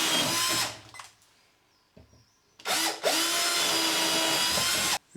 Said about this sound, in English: I'll use the supplied drill bit. Just pop two 20mm holes through there.